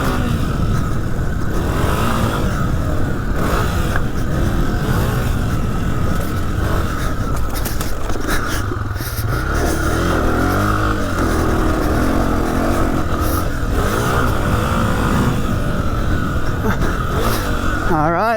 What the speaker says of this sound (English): All right, this engine is so playful, so tractable, such great linear power delivery.